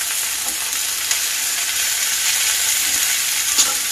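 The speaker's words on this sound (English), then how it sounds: "The onions are kicking in, y'all" Breaded squash and onions frying in a 12-inch pan, a loud dense hissing sizzle held steady throughout with only faint pops, no voices.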